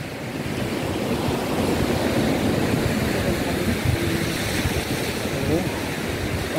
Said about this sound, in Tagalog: Maliit lang ang alon.